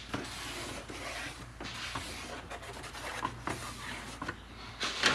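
A marker scribes a line on a Lowe 1648 jon boat seat, giving soft, close scratchy rubbing strokes in uneven bursts, fairly quiet throughout.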